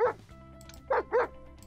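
A dog barks in the Armor in Garage mod: three sharp yapping barks, one alone and then a quick pair, loud and close with nothing else around them.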